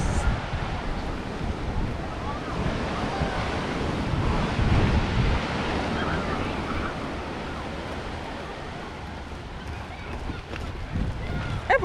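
Ocean waves wash onto a summer beach in a continuous loud roar, with wind buffeting the microphone and voices talking now and then.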